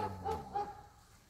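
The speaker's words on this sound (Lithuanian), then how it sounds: "O tas šuniukas dažnai loja?" A small dog yaps three quick barks in a row, fairly faint and distant outdoors on a residential street, with no talk over it.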